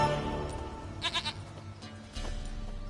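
A goat bleats in a few short quavering calls, fairly close over a low steady background hum, no talk.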